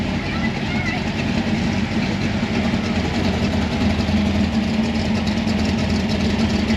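A hot rod's engine idles with a steady, rumbling drone while the car backs into a spot at a swap meet along a coastal cruise, with people talking over it throughout.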